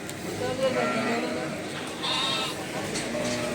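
Sheep bleat several times amid the busy murmur of a crowd at a livestock market in Kadirli, with people talking throughout.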